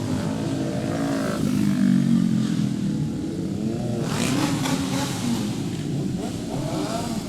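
Several motorcycles revving their engines at an Independence Day parade, loud and close, with rising and falling engine roars overlapping continuously through the whole stretch.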